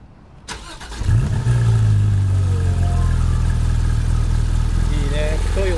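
Stock-exhaust Porsche 911 GT3 RS (991) starting up: a sharp crank and catch, then a deep, steady, loud idle rumble held close by, with a brief rising rev tone and voices talking over the engine near the end.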